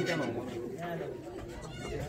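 Pigeons coo in a loft with a low, rolling murmur, blended with nearby chatter and someone talking over the birds.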